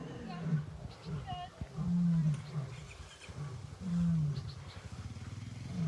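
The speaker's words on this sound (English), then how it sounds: "I think all the lions are about to sing" Several lions at an animal sanctuary roar and grunt together in a slow chorus, deep rhythmic bursts rising and falling at moderate distance, with a person talking faintly over them.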